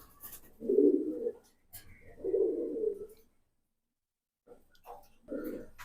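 Jobra Pankhi fancy pigeons coo up close, several low throaty rolling calls separated by short pauses in an otherwise quiet setting.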